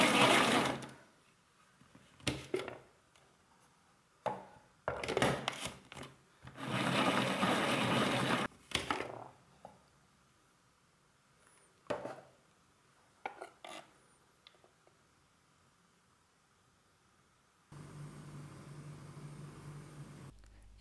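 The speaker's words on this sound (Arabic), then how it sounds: "غادي نوضعوها في الآلة باش غادي نقطعوها رقيقة" An electric slicing machine thinly cuts vegetables such as celery and coriander in a kitchen, with several separate bursts of whirring, rasping blade noise between quiet pauses, then a steady motor hum near the end.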